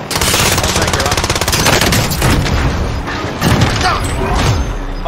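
Loud, dense gunfire from a Warzone match: rapid overlapping shots and booms crowd the whole stretch, with a few heavier thuds standing out, while voices talk underneath.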